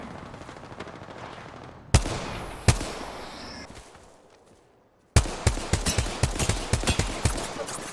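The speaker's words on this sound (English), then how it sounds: "Taking fire." Rapid bursts of automatic gunfire in the battle royale game Apex Legends, loud and close, with a burst of shots, a brief lull, then a sustained rattle of fast repeated shots.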